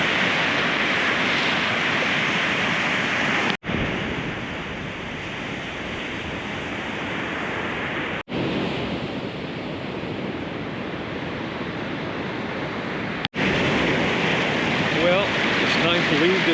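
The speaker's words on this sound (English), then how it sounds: "Kids on boogie boards surfing the waves right out amongst those rocks." Ocean waves rush in among rocks as boogie boarders ride the surf, a dense, constant roar of breaking water heard up close, with brief cuts in the sound.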